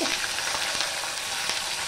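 Ginger frying in hot oil with bay leaf and slit green chillies, a dense close sizzle with faint stirring scrapes, continuous throughout.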